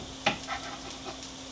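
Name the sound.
white part of onions frying in pan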